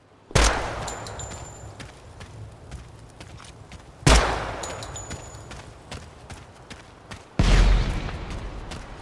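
Three loud, sharp gunshots from a 5.56 or 30-06 rifle in Project Silverfish ring out alone at spaced intervals, each with a lingering echoing tail.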